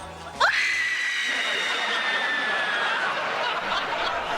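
A woman lets out a sudden, long, piercing scream of rage that holds for nearly three seconds, loud and close, before it fades.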